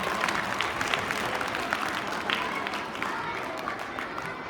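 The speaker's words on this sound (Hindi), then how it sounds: "सभी बच्चे अच्छे से जोर से तालियां बजाएंगे उनके लिए।" Children clapping loudly together at a school Grandparents' Day celebration, a dense steady wash of applause that carries on throughout the clip with no pause.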